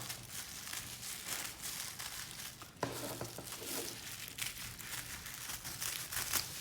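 Scissors cutting through a thin plastic bag to make plastic yarn, giving a steady close crinkling and rustling with snips scattered throughout, no talking.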